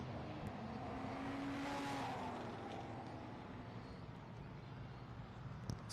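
A vintage race car passes at Lime Rock, its engine swelling to a peak and then fading into a distant drone, with faint crowd and track ambience behind.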